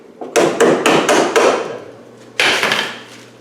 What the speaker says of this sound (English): I'm going to give it a little bit of a tap it, I think.